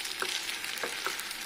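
Sago stirred in ghee over low heat for a sweet, a soft continuous sizzle with a few faint scraping strokes of the spoon, quiet and close, no voices.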